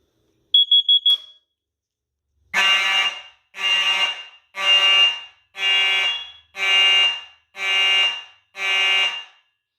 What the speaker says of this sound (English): I changed the tone to electromechanical horn instead of the 3000 hertz tones you guys have been hearing